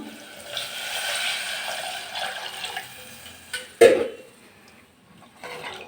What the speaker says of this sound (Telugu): దానికి 3 గ్లాసులు వాటర్ తీసుకున్నానండి. అది వేస్తున్నాను.